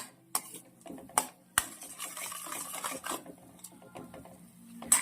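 Ground peanut powder stirred into bitter gourd curry in a pot, with a spoon scraping and knocking against the metal in several sharp clinks among softer stirring scrapes.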